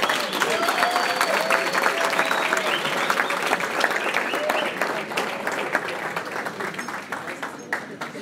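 A crowd at a Thanksgiving dinner awards ceremony breaks into a big round of applause, loud sustained clapping close by with voices murmuring and cheering underneath, thinning slightly toward the end.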